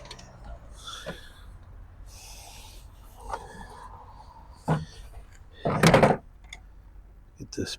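A door panel is fitted back onto a 2009 Hummer H2 SUT: scattered plastic clicks and knocks, with one louder thud near the end, under occasional low voices.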